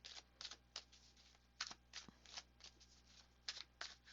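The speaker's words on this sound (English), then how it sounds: "Shuffling a long time for our overall energy card again." Tarot cards are shuffled by hand in quick, soft riffling bursts, close and quiet, repeating irregularly.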